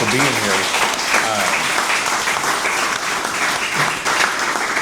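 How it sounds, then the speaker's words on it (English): Members of a Republican club applauding guests at a meeting, loud, dense clapping from a crowd that carries on steadily, with voices and cheers mixed in. "Folks, we give them a round of applause, for being here"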